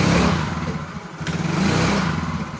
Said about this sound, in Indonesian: si motornya ini sudah tidak berbed lagi